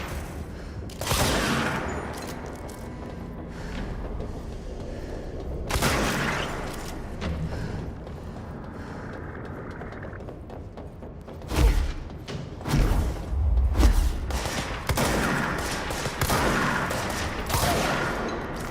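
Gunfire in the game Control, with bursts of shots and heavy thuds arriving in clusters, loud bangs and rapid volleys separated by brief quieter gaps.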